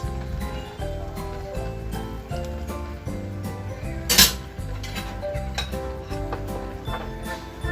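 Spoon scraping and clinking against a pan while ground pork guisado is stirred, a regular rhythm of metallic taps with one sharper clang midway.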